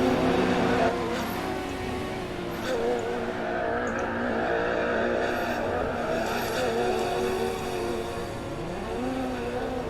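A race car drifts in the Assetto Corsa racing game, its engine droning loud and continuous while tires squeal through the slide and the car shifts up to third gear.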